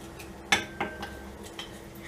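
Spoon scraping and clinking against a bowl while stirring a chicken marinade, a couple of bright metallic knocks followed by fainter taps, close and alone without talk.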